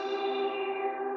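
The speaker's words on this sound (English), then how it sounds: "now you have a frozen sound" A sustained, frozen wash of reverb hangs steady and unchanging, a dense shimmering drone with no attack, moderately loud throughout.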